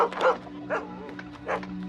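Dogs in an African village bark in three short, spaced yips and woofs, fairly close and clear, over a low steady hum.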